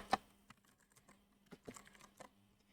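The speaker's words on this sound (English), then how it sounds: "So I'm going to type my full name" Computer keyboard typing a full name into a spreadsheet header, a short sparse string of crisp separate key clicks, close and quiet, with no voices.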